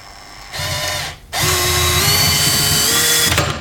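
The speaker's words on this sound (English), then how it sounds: "I gotta change this for a right-hand drill bit." A power drill fitted with a right-hand drill bit whirs up close, stops briefly, then restarts and runs steadily for several seconds with a slowly rising motor whine.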